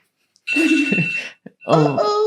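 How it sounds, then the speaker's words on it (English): A phone alarm sounds in two loud, close bursts of bright, steady electronic tones, separated by a short gap. "I have multiple alarms through the day"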